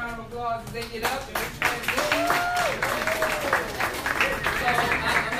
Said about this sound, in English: all of our candidates, another round of applause as they get up.